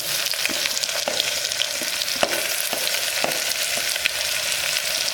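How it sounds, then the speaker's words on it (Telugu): Coarsely crushed ginger-garlic paste and tomatoes fry in a pan for a dry meat curry, filling the space with a loud, dense, crackling sizzle and scattered light clicks of stirring. "కచ్చాపచ్చగా దంచి పెట్టుకున్నటువంటి అల్లం వెల్లుల్లి పేస్ట్ ఆ పచ్చి వాసన పోయేదాకా వేగనివ్వాలి."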